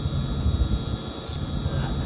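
A low-flying airplane passes about four and a half metres overhead at a Canadian farm, a steady loud engine roar with a deep rumble and a constant whine filling the short moment.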